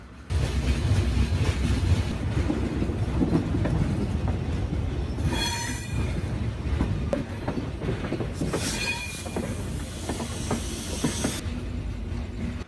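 The Sundarban Express passenger train rolls steadily along the rails into Dhaka's Kamalapur station with a loud continuous rumble, wheels clattering and brief high squeals rising partway through.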